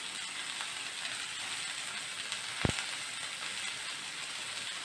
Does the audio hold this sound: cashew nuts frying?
yes